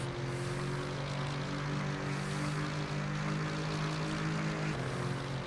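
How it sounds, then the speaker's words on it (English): An Aston Martin race car with an AMG engine in the racing game Rennsport drones steadily at constant revs. The engine tone is rich and harmonic, holding evenly with a slight pitch dip near the end. "Aston sounds right. Sounds like it's got an AMG engine in it."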